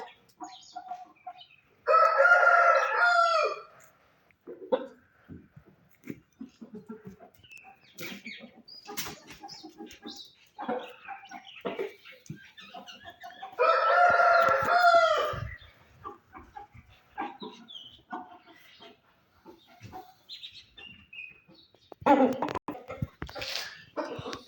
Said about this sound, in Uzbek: Mana bu xo'rozimiz ham